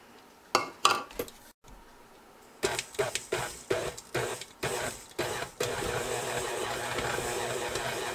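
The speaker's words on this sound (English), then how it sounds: "I'm going to add my coconut in and let it mix." An electric mixer beats coconut into creamed biscuit dough, starting with short jolting bursts, then running steadily with a rattling whir, close, with no talk.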